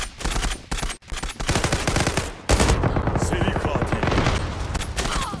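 FN FAL Pro rifle fire in the online shooter Zula, loud rapid bursts of gunshots in quick succession with a brief pause, then sustained shooting to the end.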